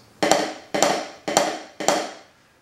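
Four evenly spaced drum diddles ring out, each a quick pair of strokes with the first note noticeably louder than the second.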